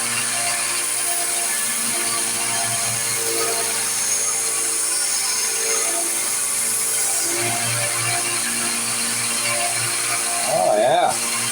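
A dagger blade is sharpened on a powered sharpener, a steady close mechanical grinding whir that runs throughout and swells briefly near the end, while a voice can be heard now and then.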